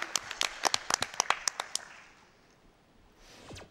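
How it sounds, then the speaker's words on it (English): Audience clapping at a speedrun event, a burst of a dozen or so sharp separate claps that quickly die away into quiet room noise, then a faint swelling hiss near the end. "All right, now we can clap."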